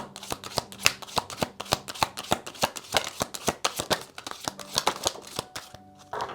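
Tarot cards being shuffled by hand in a quick, steady run of crisp riffling flicks, close and fairly loud, with no talking.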